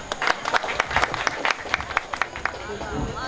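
Audience applause at a village drama performance in Hadagali, a crowd clapping in dense, uneven bursts that swell and fade over a few seconds, fairly close and loud.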